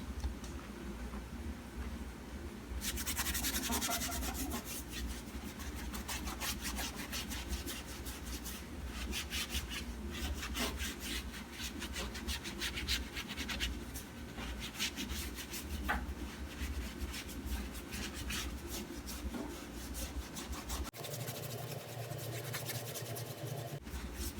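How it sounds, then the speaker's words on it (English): Brush scrubbing the barrel and back of the spokes of a car wheel makes a continuous, close rasping scrub with faster bursts of strokes, ending in a lower, muffled stretch. "Deep cleaning the barrel and the back of the spokes."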